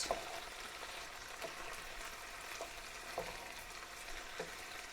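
A healthy chicken stir fry sizzles quietly in a pan, a steady soft crackle with occasional small pops and taps, with no talking.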